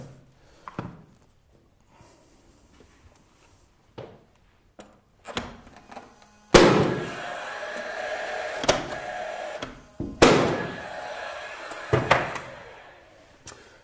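Several sharp, loud bursts from a pneumatic nail gun fixing sealing strips, separated by pauses, with a sustained compressor-like hiss between the later shots.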